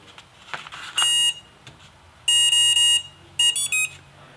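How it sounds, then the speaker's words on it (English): Three bursts of high electronic beeping from a model airplane's ESC powering up on a 3-cell battery, each a quick string of tones, separated by short pauses with faint background noise. "3 beeps means it's a 3-cell battery"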